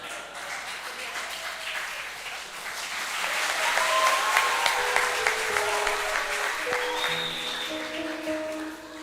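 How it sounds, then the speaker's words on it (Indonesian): Audience at a Christmas celebration applauding after a hymn performance by senior lecturers, sustained clapping that swells in the middle and eases off, with music tones and faint voices mixed in. "Sekali lagi berikan tepuk tangan yang meriah untuk persembahan pujian dari dosen senior kita."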